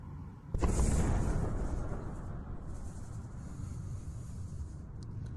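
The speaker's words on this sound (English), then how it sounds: "So we can hear an explosion." A sudden loud boom from missile air defenses hits, followed by a long rumbling roar that slowly fades, with faint distant crackles near the end.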